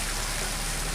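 Water pours steadily into a pan of cooking taro stolons with prawns, a dense, continuous splashing rush heard close and alone.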